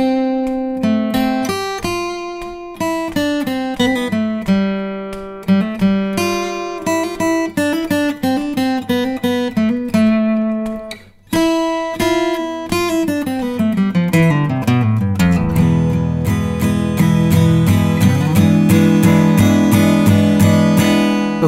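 The guitar solo from a song is played slowly on guitar as a run of clear, separate plucked notes that climbs into ringing, sustained tones near the end. No one talks over it.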